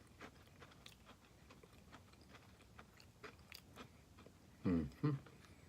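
Two loud, close crunching bites into a Nature Valley cocoa almond butter biscuit come near the end, after quieter faint chewing and rustling in a still room.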